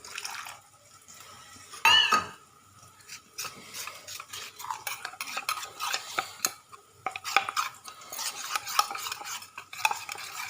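A spoon stirs masala mixed with water in a pot for a Punjabi-style mattha aloo dish, with steady scraping and clinking against the metal and some watery sloshing, close and moderately loud, with no talk.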